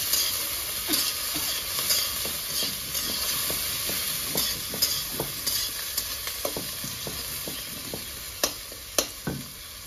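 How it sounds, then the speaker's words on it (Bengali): Chopped onions frying in a pan in a home village kitchen, a steady sizzle with repeated scraping stirs and clinks of the utensil throughout, close and alone with no talking. "পেঁয়াজ আমার ভাজা হয়ে গেছে"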